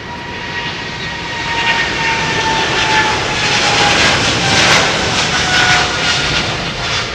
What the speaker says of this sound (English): We're hearing, oh, it's an ex-Etihad jet.